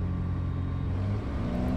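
A light aircraft engine at full power accelerates down a grass runway, a loud, steady droning roar with a low rumble that holds throughout and rises slightly in pitch near the end.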